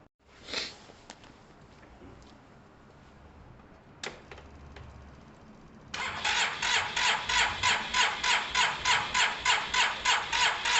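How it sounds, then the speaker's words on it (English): A couple of brief clicks and a pause, then the starter motor of a Gilera DNA 125 motorcycle cranks the engine in a fast, steady rhythmic whir that keeps going without it catching. "I'll probably be turning it over quite a lot. Don't worry about the starting motor."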